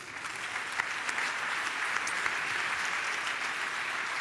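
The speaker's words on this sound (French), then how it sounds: "On vous applaudit Thomas" Sustained applause from a conference audience at a French network gathering on putting the economy at the service of living things, a steady, even wash of many hands clapping at moderate distance with no talk over it.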